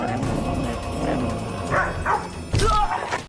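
A dog in a courtroom TV drama scene gives a couple of short barks and yips near the end, after a stretch of music and background noise.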